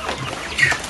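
Broiler chickens in a coop on a farm in Magetan, close-up clucking in short, scattered bursts, with one louder call near the end.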